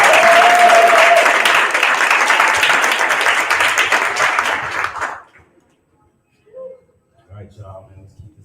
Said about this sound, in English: Y'all give it up for the applause.